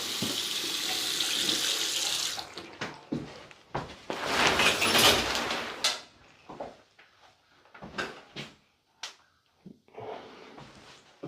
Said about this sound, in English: I like to run the plumbing and stuff when I get in the houses, just to check for leaks in the basement.